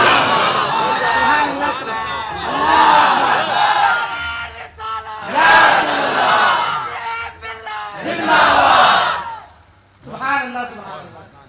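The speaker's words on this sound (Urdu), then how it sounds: "ہم نعرے تکبیر لگاتے ہیں کہ ہم ایک اللہ کو اپنا کبریا مانتے ہیں، اللہ اکبر" A crowd at a religious gathering in Topkhana, Lucknow chants the Allahu Akbar takbir slogan in loud, massed bursts of shouting, separated by brief dips and a short pause near the end.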